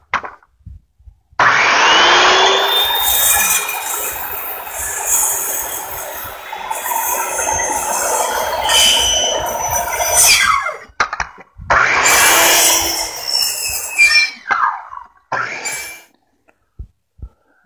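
Hand saw kerfing a timber-frame tie beam for a joist pocket: a long continuous stretch of rasping strokes, then a second burst after a brief pause, close and loud with no talk.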